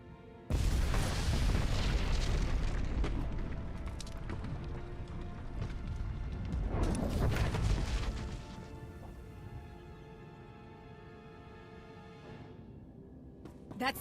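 A power plant blows up in a video game with heavy booming blasts and crashing rumble, a loud sustained roar that surges again midway before fading to a quieter hum.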